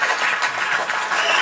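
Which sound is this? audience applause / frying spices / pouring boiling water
audience applause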